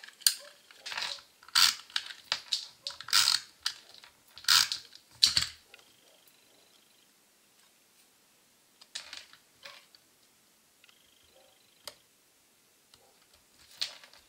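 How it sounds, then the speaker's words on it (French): A Big Shot die-cutting machine cranks paper labels through for a spring card, giving irregular bursts of clicking, ratcheting mechanical rattles close by, with quieter gaps and scattered ticks toward the end. "Je passe tout ça à la Big Shot"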